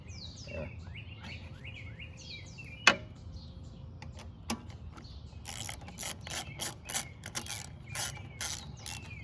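Close ratchet clicking in quick bursts as bolts on a Honda GCV160 carburetor are tightened, preceded by scattered small metallic taps and handling noises, with no talk.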